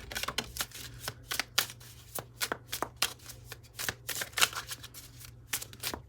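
Tarot cards being shuffled for a twelve-card spread, a run of crisp, rapid riffling snaps and flicks in uneven bursts, close and fairly quiet over a low steady hum, with no voices.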